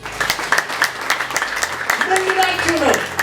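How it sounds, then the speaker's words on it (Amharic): A church congregation clapping in praise during a sermon, a steady run of close, even hand claps filling the hall, with a voice speaking over it. "ስለ ጌታ አጨብጭቡለት"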